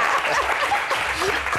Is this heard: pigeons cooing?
no